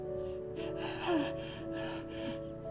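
A voice imitates labored gasping breaths, five or six breathy rasping pulses in a steady rhythm, close and fairly quiet over a low background hum.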